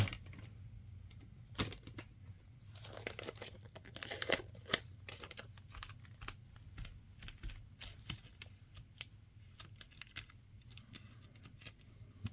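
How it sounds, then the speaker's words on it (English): Packing tape pulled off the roll in a series of loud, rasping tearing bursts, some long and some short, close by and with no talk over it. "That's packing tape being unfurled"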